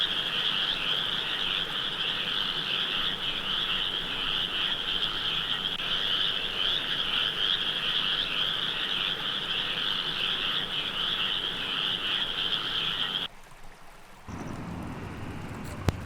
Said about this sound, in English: the Pacific tree frog, whose chorus we hear in this clip